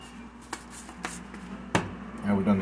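Garlic being chopped with a knife: a few sharp, separate knocks spaced through a short stretch, close and fairly quiet over a low steady background hum.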